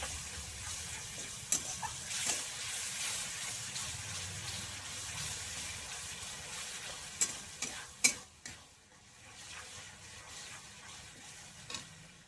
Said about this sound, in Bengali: দিয়ে ভালো করে মশলার সঙ্গে ভালো করে একটু কষিয়ে নেব কাজু আর টক দইটা।